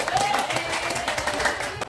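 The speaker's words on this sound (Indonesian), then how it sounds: "Ayo tepuk tangan untuk perwakilan kelompoknya." Classroom of students clapping for their group representatives, a dense burst of many hands applauding close by, mixed with chatter and voices throughout.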